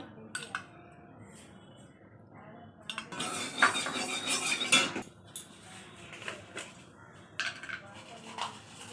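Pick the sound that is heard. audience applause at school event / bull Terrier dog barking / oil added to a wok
oil added to a wok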